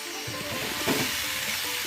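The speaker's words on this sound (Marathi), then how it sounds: "दोन चमचे भिजवलेली मुगाची डाळ ॲड केली आणि मग ती ढवळा" Soaked moong dal being stirred into spring onion bhaji in a hot pan, a steady close sizzle and frying hiss with soft scraping stir sounds throughout.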